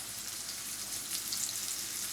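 Finely chopped carrots fry with salt in a pan for a flattened-rice pulao, giving a continuous close, bright sizzle with no pauses or voices.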